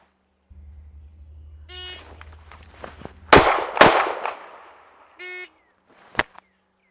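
Springfield Armory Hellcat pistol fires two sharp, loud shots in quick succession, followed moments later by another crack, with shot-timer beeps before and after and a low hum underneath.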